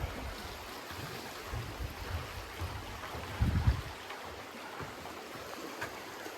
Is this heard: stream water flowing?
yes